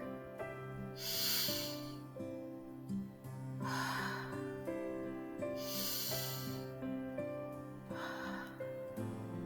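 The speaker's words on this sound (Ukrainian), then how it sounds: "Робімо повільно вдих видих, вдих, видих." Slow, airy breaths during a home Tabata workout for children, four hissing inhale and exhale bursts at an even pace over steady background music.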